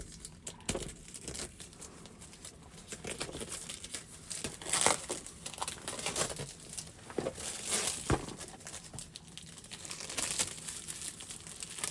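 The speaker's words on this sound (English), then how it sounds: "Find a spot to get into the plastic wrap here." Crinkling plastic wrap is picked at and torn open on a sealed GooLoo S4 smart battery charger package, making close, irregular rustles and crackles with brief sharper tears throughout.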